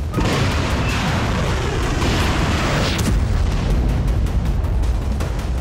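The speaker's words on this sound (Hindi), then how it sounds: "रूस की स्कंदर मिसाइल आकर गिरी और खार्किव में यूक्रेनी सेना का हेडक्वार्टर मलबा बन गया।" A Russian Iskander missile strike in Kharkiv, heard as a loud, dense roar of blast noise that fills the whole clip without letup, with a crackling rumble continuing after a sharper burst partway through.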